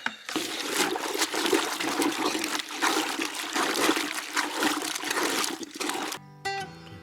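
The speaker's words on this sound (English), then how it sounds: "But now it's been in the soap bucket. I'll take it into the rinse bucket." An item is moved from a soap bucket into a rinse bucket of water, making steady, close sloshing and splashing that lasts about six seconds before music abruptly takes over.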